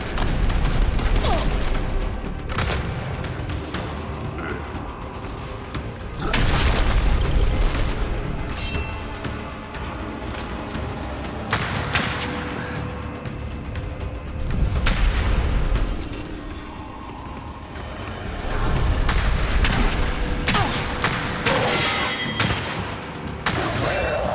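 A frag grenade goes off amid loud booming blasts and gunfire-like bursts in Gears 5: Hivebusters, with several heavy explosions spaced through a continuous, noisy combat scene.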